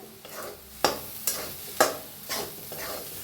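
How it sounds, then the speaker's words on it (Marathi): A spatula stirs salt into egg bhurji in a pan: several distinct scraping strokes at irregular intervals over a faint sizzle, close and fairly quiet. "मीठ हलवून घेऊया"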